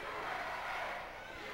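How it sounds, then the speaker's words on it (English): Wrestling crowd at a UWE tag team match with The Canadian Hit Squad, Road Dogg Jesse James and Psychodell, a steady, dense roar of cheering that holds at a constant level throughout. "This crowd is going electric,"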